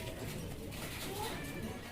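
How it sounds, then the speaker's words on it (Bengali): Fancy pigeons, including a pair of white Bombay pigeons, cooing softly in low murmuring bursts under steady background noise, fairly faint and close. "দেখেন মাশাল্লাহ খুবই সুন্দর কিন্তু কবুতরগুলা"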